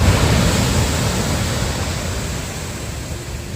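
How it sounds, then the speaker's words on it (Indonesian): Rough ocean waves break on a beach, making a loud, close, continuous hiss of surf. The roar is strongest at the start and eases slightly as it goes on. No voices are heard. "Anda bisa mendengar suara gelombang-gelombang yang ribut, gelombang ombak yang ribut di belakang saya"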